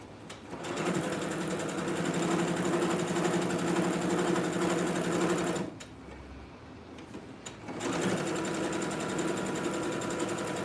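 A sewing machine runs a zigzag stitch in a steady, dense mechanical whir, stopping briefly partway through before resuming at full pace.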